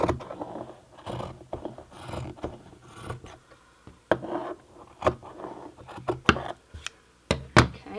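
Scissors cutting through hand-woven 8/2 cotton cloth, close up, with crunchy snips and rustling handling in an uneven rhythm, ending in several sharper clicks.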